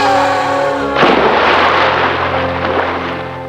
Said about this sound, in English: Falling into deep water.